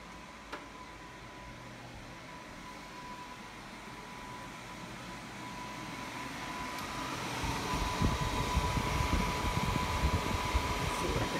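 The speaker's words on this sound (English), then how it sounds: "The blower's not even on full blast" A fireplace insert blower fan runs below full speed, giving a steady airy whir with a faint tone that grows slightly louder and rougher toward the end, with no voices.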